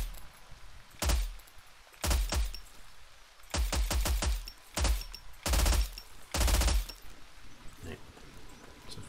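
Automatic gunfire in Zero Sievert, several separate loud bursts of rapid shots spaced a second or so apart over a quiet background, ending as half a magazine is emptied.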